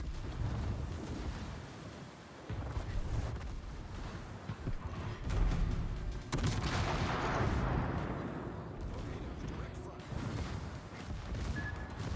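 Naval gunfire and shell hits in the World of Warships video game: heavy rumbling booms and blasts with a rushing, windy roar between them, a big impact surge near the middle, continuous and moderately loud.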